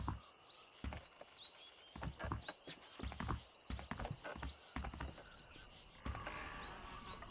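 A horse in the Red Dead Redemption video game clip-clops along with a rapid, uneven hoofbeat rhythm, plus a brief whinny, moderately close over faint outdoor birdsong.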